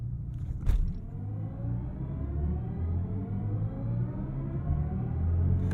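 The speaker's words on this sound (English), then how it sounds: "use launch control, where I will put my foot hard on the brake while pinning the throttle and then release the brake to get us off the line quickly" A BMW i7 electric car pulls away hard in a launch-control start, a low rumble and a rising whine building steadily from inside the cabin after a brief thump at the release.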